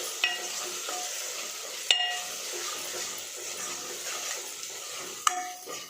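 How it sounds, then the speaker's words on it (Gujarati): Kadhi with green onion and green garlic is stirred in a pot, a soft simmering hiss with a few sharp spoon clinks against the vessel at irregular moments, close and fairly quiet, no talk. "આપણે તેની અંદર લીલી ડુંગળી એડ કરી દઈશું લીલું લસણ એડ કરી દઈશું બરાબર મિક્સ કરી લઈશું"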